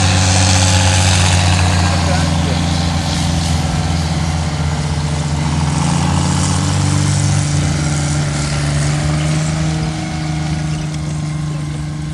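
A British Army Scimitar armoured vehicle's engine runs with a loud, steady, deep rumble and idling drone that holds constant throughout, while someone talks over it.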